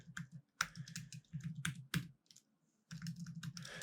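A computer keyboard clicks as a name, IP address and password are typed in, with quick close-up keystrokes in runs, a short pause in the middle, then a final burst of typing.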